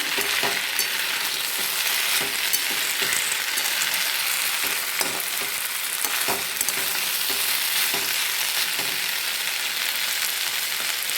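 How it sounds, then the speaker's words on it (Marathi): Potato sabzi with chopped chillies fries in a pan, a continuous loud sizzle broken by repeated scraping and clinking strokes of a spatula as it is stirred, with no talking. "आता हे मी बटाट्या भाजीमध्ये टाकून घेते ही मिरची मी आता मिक्स करून घेते"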